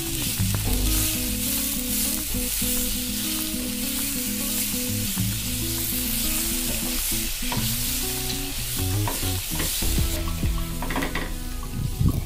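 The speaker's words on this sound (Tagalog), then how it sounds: "Pagka naigisa na natin itong mabuti, ilagay na natin ng hipon. Then, ilagay na rin natin yung squid balls." Shrimp and squid balls sautéing in a pan for pancit, a loud steady sizzle with frequent stirring clatter and scraping, close up and without voices.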